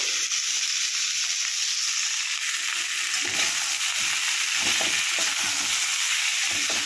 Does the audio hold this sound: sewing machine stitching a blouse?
no